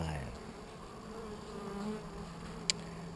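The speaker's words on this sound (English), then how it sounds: "Mellow hive." A calm honey bee hive hums with a soft, steady buzz close by during an open hive inspection on Kauai, faint and continuous, with one brief click near the end.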